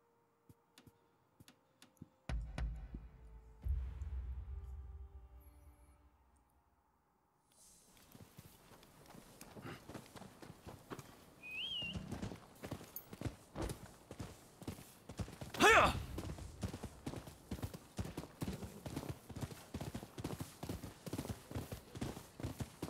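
Hooves of a running horse in the video game Rise of the Ronin, a quiet patter at first, then a fairly faint, steady stream of rhythmic clip-clop hoofbeats after a brief lull.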